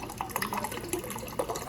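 Water dispenses from a GE refrigerator just after a filter replacement, making a short, close, bubbly trickle with small gurgling splashes and no voices.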